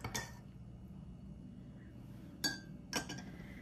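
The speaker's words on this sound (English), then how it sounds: "Let's get the spoon out." A metal spoon clinks against a mug of thick, creamy homemade hot chocolate, giving one early chime, then two sharp clear taps near the end over quiet room tone.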